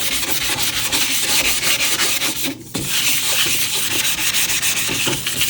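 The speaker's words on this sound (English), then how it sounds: "And you're just scratching it. You're not really like sanding it." Light sanding scratches across the surface of a resin piece, a continuous close rasping rub with a brief pause partway through, no voices present.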